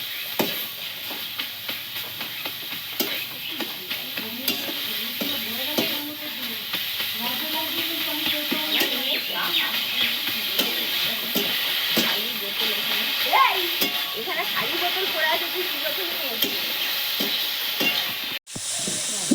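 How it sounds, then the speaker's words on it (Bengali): Steady sizzling and stirring in a pan as chickpea greens fry with a little salt, a continuous hiss with scraping strokes throughout, ending with a brief clatter. "শাকটা একটু ভাজা ভাজা করে নেবো"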